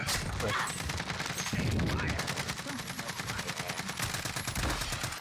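Rapid gunfire shooting through walls in Call of Duty Warzone, a fast automatic stream of sharp shots that stays loud and steady throughout, with voices talking underneath.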